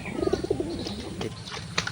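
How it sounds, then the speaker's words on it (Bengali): A female pouter pigeon gives a short run of soft, low cooing notes close by, followed by a few faint chirps and light rustles in a quiet indoor setting. "এই পটার মেয়ে পায়রাটা"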